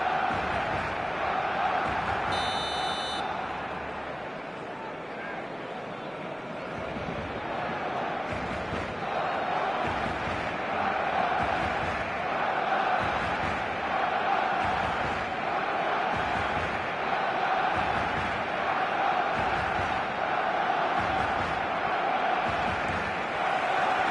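Football stadium crowd on match day, a constant roar of thousands of fans with rhythmic chanting pulses, steady and distant throughout.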